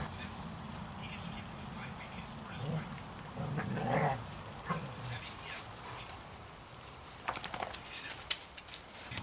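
A dog barks and whimpers a few times in the background, faint and intermittent, while a person works on a car engine with oil leaking through a plastic part; light handling noises throughout.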